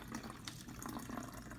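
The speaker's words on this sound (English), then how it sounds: "Add the water" Water is poured into a half-full 500 ml plastic water bottle, a faint, steady trickling splash lasting under two seconds with no talking.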